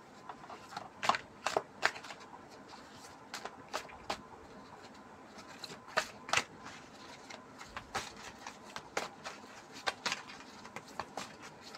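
Tarot cards split from a deck and handled, a soft papery shuffle with repeated quick flicks and snaps at irregular intervals, close but quiet over faint room noise.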